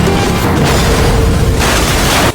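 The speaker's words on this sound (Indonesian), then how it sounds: "Lalu mobil itu pun terbalik beberapa kali dan disusul oleh ledakan besar" A big explosion erupts after a car overturns several times in a drama scene. It is a loud, sustained booming roar that fills about two seconds, with no voices.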